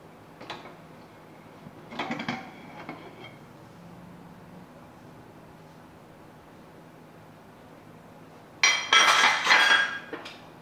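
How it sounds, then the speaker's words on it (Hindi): A few metallic clinks and scrapes of a pressure cooker lid being handled after baking a mango cake inside, then a loud hissing burst near the end; quiet otherwise, with no speech. "कुकर को एकदम सावधानी से खोलेंगे"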